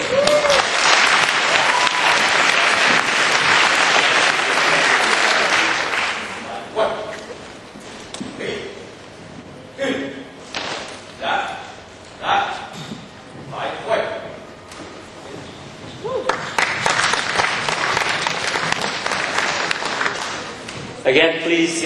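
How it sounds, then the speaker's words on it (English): At the UNAVSA-3 opening ceremony, an audience breaks into loud applause for a martial arts master's long-weapon demonstration. The applause fades into a quieter stretch of scattered sounds, then loud clapping returns near the end. "please give a round of applause for Master Trương Thông"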